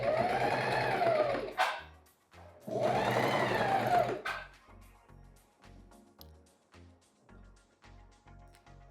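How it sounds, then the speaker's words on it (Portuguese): A sewing machine runs in two sustained bursts of stitching through fabric as the foot pedal is pressed, separated by a brief pause and followed by quieter mechanical clicks and thumps of the mechanism. "Agora eu vou colocar aqui o tecido embaixo do pé calcador, descer a alavanca"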